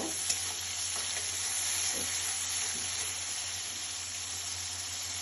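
Spices sizzle and fry in a pan for a sour boal fish curry with olives and potatoes, a steady close hiss with occasional stirring scrapes and light pops.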